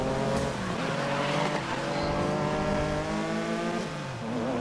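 Racing cars in the GRID video game's Classic GT series roar continuously, their engines whining and revving with pitch rising and falling through gear changes and a brief tire squeal.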